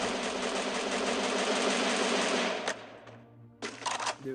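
Rapid automatic gunfire in the Free Fire video game, a loud sustained burst lasting over two seconds, then a short lull and a few more close bursts.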